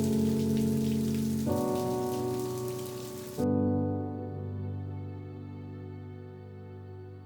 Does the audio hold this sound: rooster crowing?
no